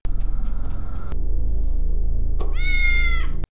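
A cat gives a single drawn-out, high meow near the end, over a steady low hum and rumble, preceded by a couple of sharp knocks.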